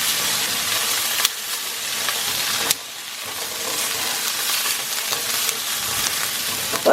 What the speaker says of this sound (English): these sausages are already cooked, so I'm just kind of browning them so they hold in all the flavor